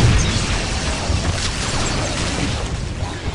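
A Titan weapon unleashes a sustained, heavy roar of blasts against Necrons in Dawn of War, a continuous booming rumble with crackling bursts and no pause throughout.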